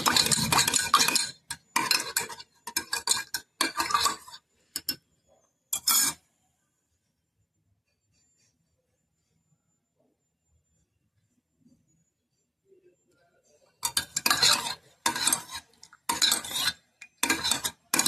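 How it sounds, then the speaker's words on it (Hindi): A spoon stirs a golden drink in a cup, bursts of quick clinking and scraping, then a long stretch of quiet before the rapid clinks resume up close. "Let me stir it."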